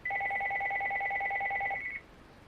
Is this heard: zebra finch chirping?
no